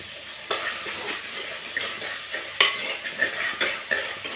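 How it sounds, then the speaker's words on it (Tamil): Onions sautéing with rock salt in a pan for fish kulambu, a soft continuous sizzle with occasional stirring scrapes and clinks of the spoon, close and steady. "அப்போ தான் வெங்காயம் சீக்கிரமாக வதங்கும். வெங்காயம் வதங்கட்டும்."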